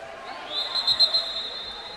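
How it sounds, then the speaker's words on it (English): A sustained high referee whistle blast at a swimming event sounds over faint crowd murmur in a large echoing space, lasting about a second and a half. "Referees whistling for the swimmers to head out there, and we're going to start."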